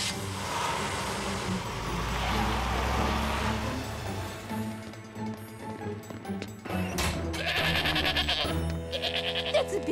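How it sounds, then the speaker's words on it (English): A billy goat found wandering the streets bleats in a cartoon episode, several wavering cries rising over a rumbling vehicle engine, with a pause midway before louder bleats return near the end. "that's a dear sweet billy goat!"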